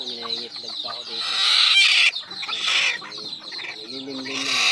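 Several chickens cluck and chatter close by, with a busy, overlapping rhythm and a brief louder squawk midway.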